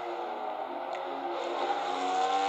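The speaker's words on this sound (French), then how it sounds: "la voici, cette superbe Jaguar XJ220 engagée par le TWR qui marque le grand retour de Jaguar au Mans, mais un retour en catégorie GT" Jaguar XJ220 GT race car run by TWR at the 1993 Le Mans 24 Hours, its engine a steady, loud, sustained roar with little change across the stretch and no voices over it.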